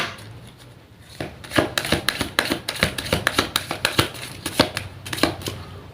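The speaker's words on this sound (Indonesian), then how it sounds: "Saya shuffle terlebih dahulu." Tarot cards being shuffled by hand, a dense run of crisp riffling and slapping clicks that builds after a quiet start and continues steadily, close and alone with no talk.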